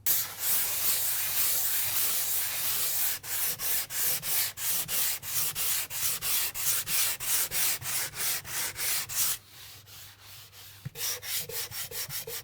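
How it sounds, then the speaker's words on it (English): Hand sanding of a patched hole in a wall, a steady rasping rub with rapid regular back-and-forth strokes. It runs close and loud throughout, pausing briefly near the end before resuming. "we can give this a quick sand"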